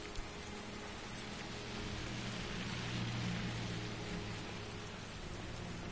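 Steady downpour in the video game Heavy Rain, a continuous hiss of falling drops with a low rumbling undertone that swells slightly midway, quiet and unbroken.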